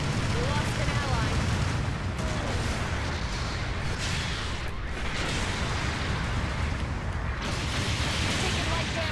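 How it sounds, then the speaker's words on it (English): Supporting artillery fire pounds down in Gundam Battle Operation 2 on PS5, a dense continuous rumble of blasts and booms that stays loud for the whole stretch, with speech mixed in. "Supporting fire incoming."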